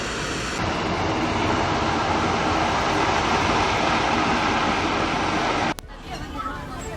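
A train rumbles past at a road crossing, a loud, continuous, close roar of rail cars that cuts off abruptly near the end, leaving quieter ambient noise.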